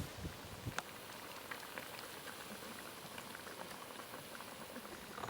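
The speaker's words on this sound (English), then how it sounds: "we'll put our hot water over. And basically now that's going to cook the pork until it's done" Pork in calvados cooking in hot water, heard as a soft, continuous bubbling and simmering hiss, faint and even throughout with an occasional small pop.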